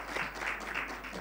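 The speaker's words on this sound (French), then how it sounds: "Oui, je crois que vous pouvez applaudir" A short burst of steady applause from an audience, many hands clapping together at even loudness throughout.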